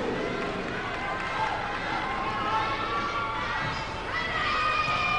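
A dense, continuous roar from a Thai crowd cheering at a women's volleyball match between Thailand and Japan at the 2014 Asian Women's Club Championship, steady and loud throughout, with a commentator talking over it.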